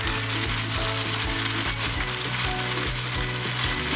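Continuous loud sizzling of ginger garlic paste and chaat masala frying in a pan for chicken karahi, with steady scraping and clinking as it is stirred throughout.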